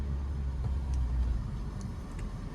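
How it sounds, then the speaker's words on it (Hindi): A car's engine rumbles steadily from inside the cabin as a learner driver shifts into second gear, a low continuous drone with faint road noise and no speech. "क्लच दबा के सेकंड गियर करो।"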